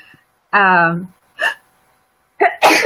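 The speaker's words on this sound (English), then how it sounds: "So worked up I sneezed." A single abrupt sneeze bursts out, followed by brief voices talking.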